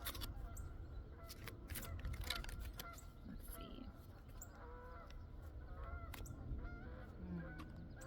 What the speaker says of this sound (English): I hear the geese.